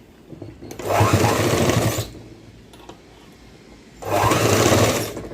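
Sewing machine stitching across the square neckline of a baby gown for a 20-day-old infant, two loud sustained runs of about a second each separated by a quieter pause, close and alone.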